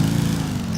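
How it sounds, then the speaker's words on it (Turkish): A steady, low droning tractor engine hum in the video game GTA IV runs throughout, constant and fairly loud, with no voices. "Şu motor sesi."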